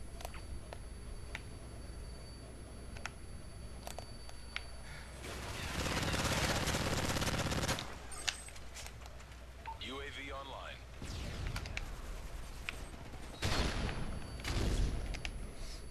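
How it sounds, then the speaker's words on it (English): Gunfire in the video game Modern Warfare 3, bursts of rapid shots loudest in the middle and again near the end, over a steady game background with other noises between. "Blind, just blind firing, can't see nothing."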